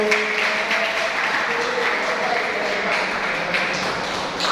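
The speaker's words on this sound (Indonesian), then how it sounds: "Tepuk tangan dulu." A seventh-grade class claps together after group presentations, a steady, fairly loud wash of applause from a room of students.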